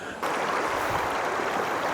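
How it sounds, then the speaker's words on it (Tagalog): A river rushes steadily beside a riverside campsite, a continuous broad wash of flowing water that starts abruptly and holds even. "Ilog na naman."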